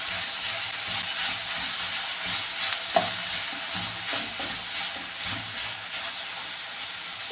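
Bitter gourd sautéing in a pan for a Kerala thoran, a steady close sizzle with scraping spatula stirs and a few sharper clinks scattered throughout.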